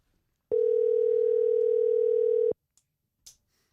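An outgoing telephone call rings with no answer, a single steady ringback tone lasting about two seconds, then silence broken by a few faint clicks.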